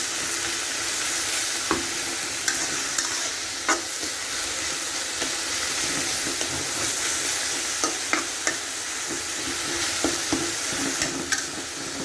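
Red amaranth greens frying in a pan, stirred with a spoon: a steady sizzle and hiss under repeated scraping clicks of the spoon against the pan, close and continuous.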